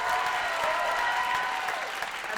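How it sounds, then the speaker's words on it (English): A crowd claps for university faculty at a Hawaiian club's lū'au stage show, a dense wash of steady applause with cheering texture, continuous and fairly distant throughout. "Let's give another round of applause to our Bearcat faculty"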